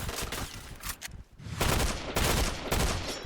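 Gunfire rattles in the shooting video game Point Blank: dense, loud bursts of rapid shots with a brief lull before the firing resumes in heavy volleys.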